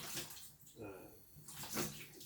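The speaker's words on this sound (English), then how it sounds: "So now we're taking the coconut and just rinsing it off" A coconut is rinsed under running water, a broadband splashing rush that swells and fades in two bursts over a couple of seconds, close and fairly loud.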